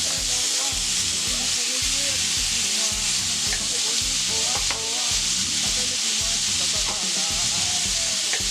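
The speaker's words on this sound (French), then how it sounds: "pour éviter que ça fasse de la mousse lors de la friture de mon bœuf" Beef fries in a pot with oil, giving a loud, steady sizzle and hiss close by, with a rhythmic scraping or stirring beat underneath and no talk.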